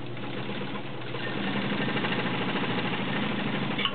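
A vintage Kenmore Model 84 sewing machine, a heavy-duty 1.2 amp model, stitches delicate nylon with a steady, close, motor-driven hum and an even rapid needle rhythm throughout.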